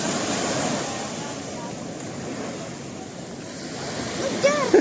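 Surf washing onto the beach at Labuhan Jukung, Krui, a steady broadband roar of waves with some wind, moderately loud and continuous, with faint voices near the end.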